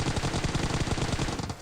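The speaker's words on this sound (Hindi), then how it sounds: "सामने कुछ गन फायर हो रहे थे" Video-game gunfire in PUBG Mobile around Pochinki: a dense, continuous stream of rapid automatic shots, loud and close, without talk.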